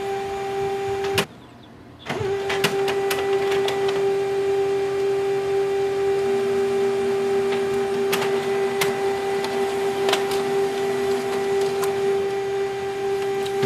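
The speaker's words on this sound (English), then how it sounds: "Your printer will print an alignment page." A Canon Color imageCLASS MF650 laser printer prints an alignment page, humming steadily with a constant motor drone and periodic clicks and ticks, after a brief pause near the start.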